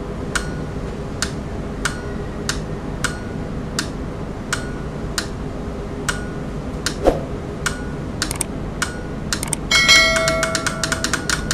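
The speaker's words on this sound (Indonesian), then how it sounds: "Ada bunyi tik-tik, itu adalah relaynya ini ya." Relay inside a proximity switch setup clicking as a metal object is held in front of the sensor, giving sharp, evenly spaced ticks roughly every half second, then a quicker burst of clicks near the end, with no talk.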